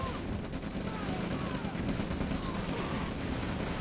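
Pillboxes fire in OpenRA Red Alert, giving dense overlapping bursts of gunfire and battle noise that run continuously at moderate volume, with talk mixed underneath.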